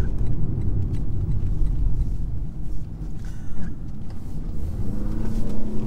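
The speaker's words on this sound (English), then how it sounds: "a bit of torque steer there. Bit of wheel spin." A 2022 Lexus UX250h hybrid compact SUV accelerating hard on a wet road, with wheel spin and torque steer. A steady low engine and road rumble is heard from inside the cabin, fairly loud throughout, with no talk.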